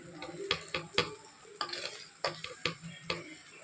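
A spoon or spatula stirs leftover rice into tomato rice in a pan, with a run of scraping clinks and soft knocks against the metal over a faint sizzle, close and fairly quiet.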